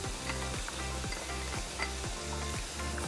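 Canned mild diced green chilies are stirred into cooked hamburger meat in a pan on low heat, a soft continuous sizzle with regular rhythmic scraping strokes of a utensil, fairly quiet and close.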